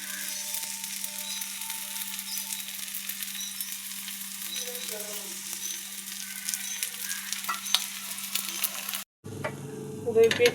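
Food frying in oil on a hot griddle, browned on both sides, gives a steady close sizzle over a low constant hum with faint clinks, then cuts off abruptly near the end before a brief burst of different noise.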